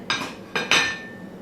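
Three sharp metallic clinks of a pan being handled while cooking an omelet, close and bright, the last leaving a short ringing tone.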